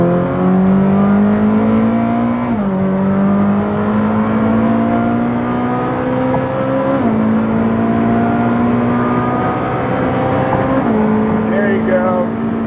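A Ferrari naturally aspirated V8 revving hard toward 9,000 rpm, its pitch climbing in repeated rising sweeps with brief drops at each gear change, loud and close throughout.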